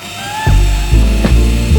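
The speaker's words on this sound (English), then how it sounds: "I just moved the leg up and down the drill press to hog out the remaining material." A drill press bores into a wooden table leg to hog out a mortise; the motor loudly revs up in about four repeated bursts, each sliding in pitch, close by.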